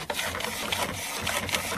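A Dell V515W inkjet printer printing an alignment page, with a busy, rapid mechanical whirring and clicking of the print head and feed, heard close and without voices.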